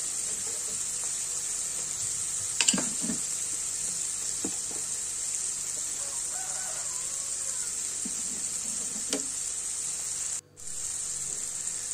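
Broad bean curry simmering and frying in oil, a steady, high, hissing sizzle that runs continuously, with a few faint clinks and stirs close by.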